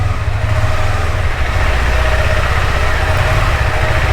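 A KTM 390 Adventure motorcycle idles nearby at a gate, giving a steady, loud low engine rumble with constant vibration and no talk over it.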